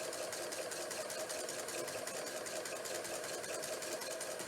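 A sewing machine stitches the seam of a pinwheel quilt block in a steady, fast, even run that carries through the whole stretch, close and fairly quiet, with no talking.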